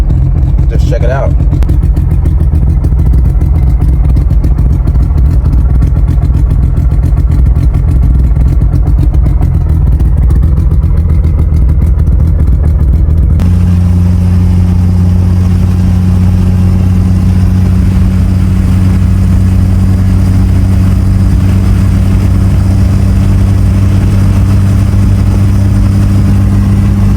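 Tuned Mitsubishi Evo engine running close by, a loud steady idle with a revving burst near the start and a deeper settled drone later.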